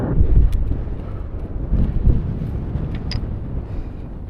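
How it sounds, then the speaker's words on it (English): Wind gusting across the summit of Esk Pike in the Lake District fells, a steady low roar buffeting the microphone with stronger surges near the start and middle. "My wind's picking up again."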